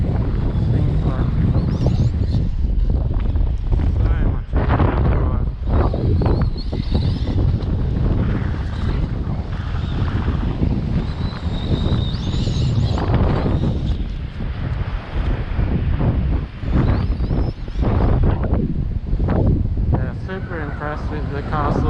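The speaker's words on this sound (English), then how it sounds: "It's pretty windy" Strong wind buffets the microphone at a beach during an RC car bash with an Arrma Kraton 8S and Tekno ET48 2.0, a loud continuous rumble with gusts throughout, while someone talks over it.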